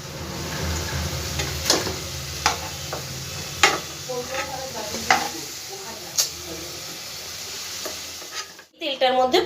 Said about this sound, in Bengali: তেলটার মধ্যে ফোড়নগুলো সব দিয়ে দেবো